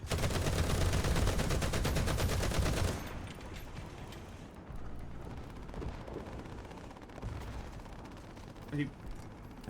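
Rapid automatic machine gun fire in a first-person shooter video game, a dense sustained burst for about three seconds that then gives way to scattered quieter shots and game noise.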